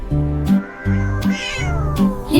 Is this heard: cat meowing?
yes